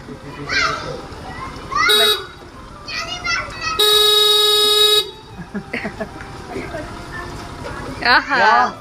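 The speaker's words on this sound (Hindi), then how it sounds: "पीपी बजा दो बेटा" A vehicle horn blares loudly in one long continuous honk and a shorter earlier blast, pressed by a child, close by, with children's chatter and adult voices around it.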